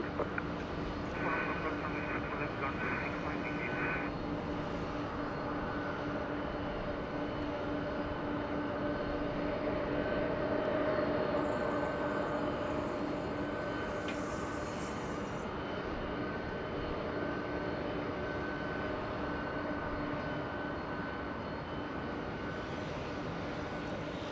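An American Airlines Boeing 777-300 jet arriving at LAX roars steadily throughout, a broad, even engine drone, while a voice talks over it.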